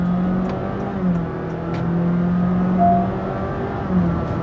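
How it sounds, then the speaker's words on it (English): The engine of a 2022 Honda City e:HEV hybrid hums and rises under full acceleration, a steady droning tone that climbs and shifts pitch as it pulls. "Keep listening to the engine."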